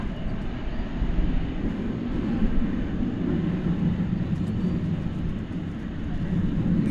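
A heavy jet airliner departs DFW Airport at night, giving a steady low roar with continuous broadband rumble. It holds fairly even throughout with no talk over it.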